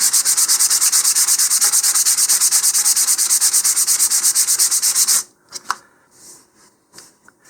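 Rapid, rhythmic rasping of sandpaper rubbed back and forth on a 2-inch model rocket body tube seam, steady strokes for about five seconds, then a few scattered light taps.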